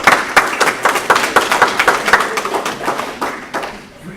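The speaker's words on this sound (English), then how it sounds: "give them a nice round of applause" Audience applauds at an education event, loud dense clapping from a nearby crowd that thins out and fades over the last second.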